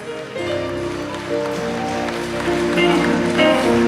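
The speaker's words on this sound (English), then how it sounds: "Just clap your hands all over the building." A church congregation claps its hands together throughout the building, a steady broadband patter blending into sustained organ-like music and a voice speaking over the top.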